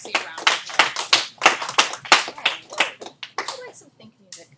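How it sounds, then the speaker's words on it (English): Classroom students applauding, a brief burst of uneven, fairly close hand claps that thins out and fades within a few seconds. "Everybody give Marcy a round of applause"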